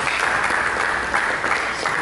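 A church congregation breaks into dense, continuous clapping, filling the room evenly from start to finish with no voices standing out.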